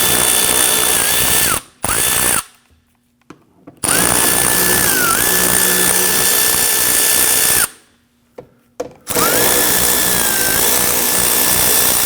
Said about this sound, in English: we're using a 7/32 socket to go ahead, loosen and remove these.